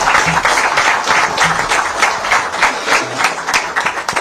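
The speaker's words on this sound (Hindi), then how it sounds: "जरा ताली वाली बजाओ इनके लिए।" Audience applause at a BJP office youth event in Madhya Pradesh, a steady wash of many hands clapping throughout, fairly loud and close, with no talk over it.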